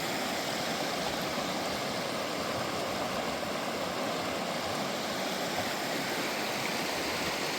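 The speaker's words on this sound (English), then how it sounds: "Just wanted to stop for a sec and get a shot of the Strawberry River" The Strawberry River in Duchesne, Utah, rushes along in a steady broadband wash of flowing water, continuous and moderately distant, with no voices over it.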